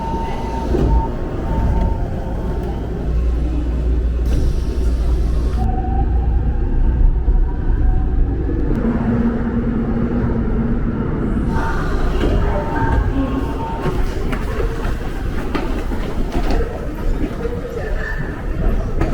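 An early-morning Seoul subway train rumbles along toward Gwanghwamun Station with a steady low roar, rattling and clacking, while brief chimes and muffled voices surface over the noise.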